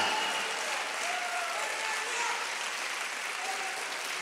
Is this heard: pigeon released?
no